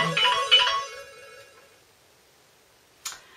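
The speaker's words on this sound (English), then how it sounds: "Sorry, my phone is going." A phone's melodic ringtone plays loudly for about a second and then stops, leaving quiet room tone and a sharp click near the end.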